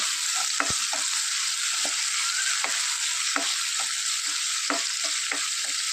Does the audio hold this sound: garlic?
yes